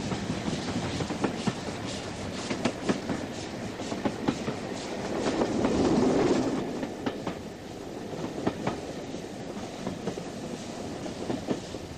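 The Flying Scotsman steam locomotive runs steadily nearby through the English countryside, its rhythmic chuffing and clattering wheels rolling on, swelling briefly louder midway before easing back.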